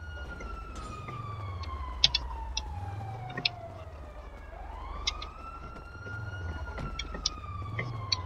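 Police siren from a car in the FiveM game, wailing up and down steadily for the whole stretch over a low engine drone, with a few sharp game sound effects scattered through it.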